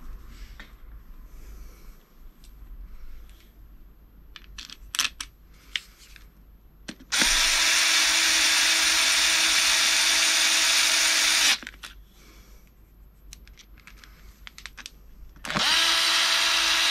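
A power drill drives screws into the parts of a Kaabo Mantis GT electric scooter during a tyre replacement, with two loud sustained whirring bursts separated by quieter handling clatter.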